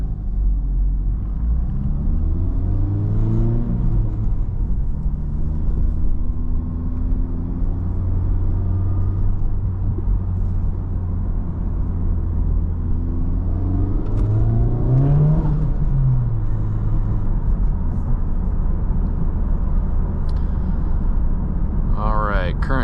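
A 2023 Honda Civic Type R FL5 in sport mode drives at night, its engine a steady low rumble with rising and falling revs as it accelerates and shifts, heard from inside the car under someone talking.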